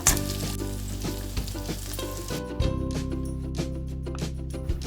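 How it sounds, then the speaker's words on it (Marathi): Prawns fry in a pan with a dense, close sizzle and a few sharp knocks of a utensil against the pan. The hiss thins out partway through. "परतून घ्यायचे कोळंबीला फ्राय व्हायला जास्त वेळ लागत नाही"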